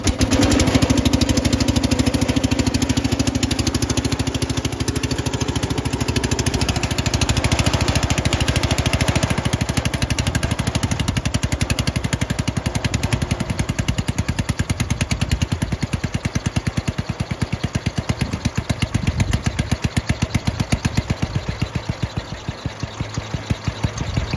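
Restored garden tractor engine with a straight-pipe exhaust runs steadily close by, a loud, continuous chugging idle with a rapid, even firing pulse throughout and no talking.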